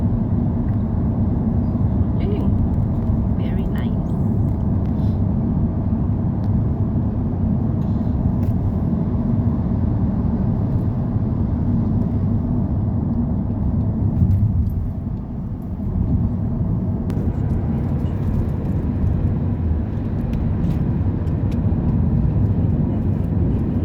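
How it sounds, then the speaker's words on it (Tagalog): A car passing on a road near the Temple of Poseidon at Sounio, a steady low engine rumble running throughout with a brief dip midway, while a voice speaks a few words over it. "Sasakyan."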